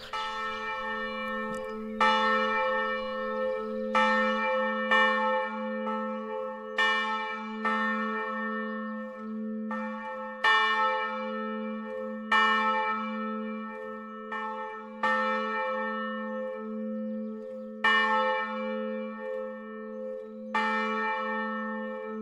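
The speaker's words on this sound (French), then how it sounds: "celle qui sonne 3 fois par jour, c'est la petite pour l'Angélus" The small Angelus bell at the Poor Clares convent in Ronchamp tolls about a dozen evenly spaced strokes, each ringing out and overlapping a sustained hum, clear and unaccompanied.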